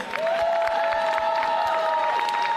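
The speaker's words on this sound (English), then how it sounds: "let's have a round of applause for Justin Kizzer in Dark Circle Sumo" A crowd applauds medalists at the U.S. Sumo National Championships with steady, continuous clapping and a sustained whistle-like tone running over it.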